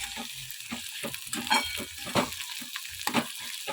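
Onion sizzling and frying in a pan while being stirred, crackling in bursts with scraping strokes, close and fairly quiet.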